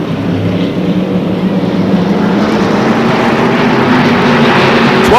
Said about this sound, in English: we've got the green flag out throughout this 12-lap race here at Lee USA Speedway